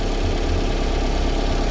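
A 2015 Jeep Cherokee with the 2.4L MultiAir engine idles up close, a loud, steady mechanical hum and rumble with fine ticking, unchanging and with no speech.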